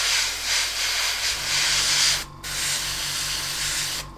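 An airbrush sprays paint onto a beginner's scale model cockpit, giving a steady close hiss with a brief break before spraying resumes, over a faint low compressor hum.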